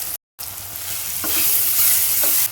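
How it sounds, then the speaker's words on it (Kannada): Ground mint masala paste sizzles steadily as it fries in a pan and is stirred, with soft scraping strokes over a close, even hiss after a brief silent gap at the start. "ಈಗ ನಾವು ಪುದೀನ ಎಲ್ಲ ರುಬ್ಕೊಂಡು ಮಸಾಲೆ ರೆಡಿ ಮಾಡಿ ಇಟ್ಕೊಂಡಿದ್ವಲ್ಲ, ಅದನ್ನು ಹಾಕ್ಕೊಂಡು ಫ್ರೈ ಮಾಡ್ಕೊಳ್ಳೋಣ."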